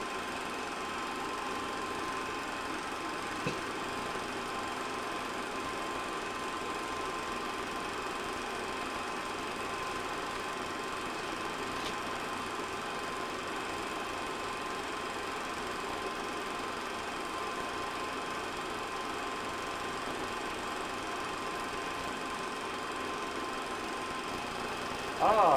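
A Corliss steam engine runs at the Hungarian flour mill, giving off a faint, continuous mechanical drone with a low, even rumble that holds steady throughout.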